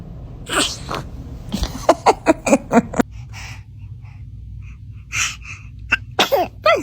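A newborn baby sneezes several times in quick succession, small sharp bursts close by, with soft breathing and fussing sounds between them.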